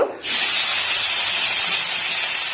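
Half-ground onion paste hits hot oil and bursts into a loud, steady, close sizzle that starts abruptly and holds without letting up, with no voices.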